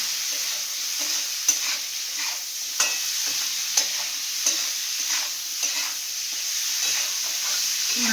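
Dried fish sizzling and frying in a hot wok over a high flame, with a steady hiss and a spatula regularly scraping and stirring the pan, close and alone with no voices.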